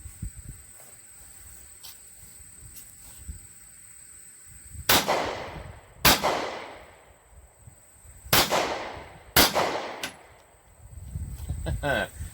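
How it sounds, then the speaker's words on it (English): Four sharp 9mm pistol shots crack out at irregular intervals, each ringing briefly, with faint metallic impacts on steel targets among cans and quiet outdoor background between shots. "We're going to see if we can't hit them with the 9mm."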